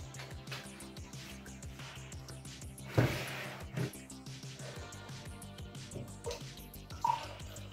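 Water pours into a glass already holding a little milk for a non-alcoholic layered drink, giving a short splashing burst followed by a few fainter drips and trickles with no talking.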